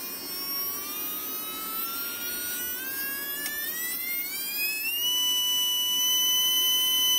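Small 6-ohm Mabuchi can motor spinning up as voltage is raised, a thin, steady high whine that climbs smoothly in pitch and gets slightly louder, close and alone.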